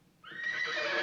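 Horse neighing in the 1974 film Young Frankenstein, a single loud, bright whinny that rises after a brief quiet start and holds to the end.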